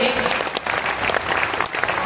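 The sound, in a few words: audience applause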